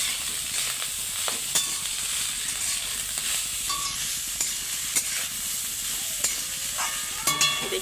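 Leftover rice and salt being stirred in a sizzling pan, a steady frying hiss with scattered spatula scrapes and clicks, close and alone with no talking.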